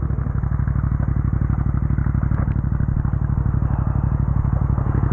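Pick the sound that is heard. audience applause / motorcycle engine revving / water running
motorcycle engine revving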